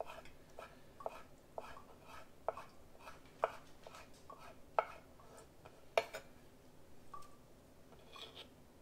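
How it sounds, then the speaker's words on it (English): Knife chopping fresh herbs on a cutting board for fish tacos, a run of quick, fairly crisp taps at an uneven rhythm, close by, with a few sharper knocks and no talking. "We'll just chop that up nice."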